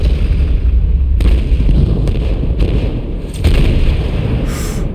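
Booming explosions and bursting pops from the video game Destroy All Humans 2 Reprobed, a loud run of repeated blasts with sharp cracks over a low rumbling bed, each burst fading into the next.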